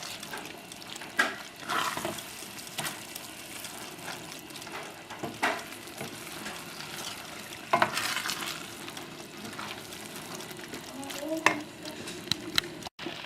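Chicken and vegetable risotto bubbles and sizzles in a pan over high heat, a steady hiss broken by irregular spoon stirs and scrapes, with faint speech in the background.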